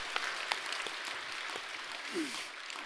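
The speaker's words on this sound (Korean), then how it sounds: "다시 한번 큰 박수로 격려 말씀 부탁드리겠습니다" Applause at a Korean academic award ceremony, a moderate, diffuse patter of clapping with a few sharper individual claps standing out, fairly distant and fading slightly toward the end.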